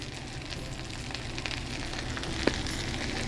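Food sautéing in a pan, seasoned with salt and black pepper, gives a steady, fairly quiet sizzle and crackle, with a couple of faint clinks toward the end and no talking.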